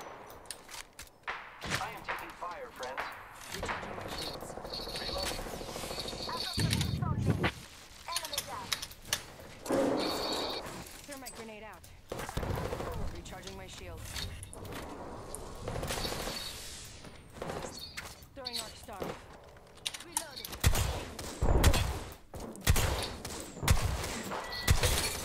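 Bursts of gunfire and thuds from Apex Legends gameplay crackle intermittently in a match, medium loud and scattered, with someone talking in German over much of it.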